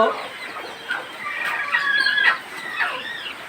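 A hen clucks in a run of short, rising calls, nearby and fairly loud, over a quiet background, at a chick-brooding setup without electricity.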